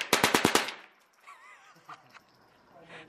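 A .22 rifle with a binary trigger fired in a rapid string of about six sharp, evenly spaced cracks over half a second, close and loud, followed by quieter handling noise and faint voices.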